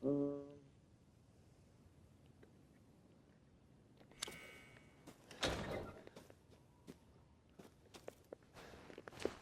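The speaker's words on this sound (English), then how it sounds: "Door slam." A door slams inside a Resident Evil Village game level: a sharp bang amid scattered footsteps and clicks, followed by several shorter knocks and thuds at close range, all fairly faint with no talk.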